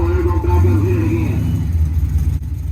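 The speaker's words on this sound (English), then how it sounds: "I decided to back the car up and try to make a single by myself" Drag race car making a single solo pass, a loud sustained engine roar with a low rumbling drone and a rising whine, continuous and close throughout.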